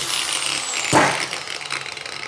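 A power tool cuts into a metal piece for a spacer bushing in a workshop, a sharp close whine that bursts in loudly at about one second and then settles into a rougher, pulsing grind.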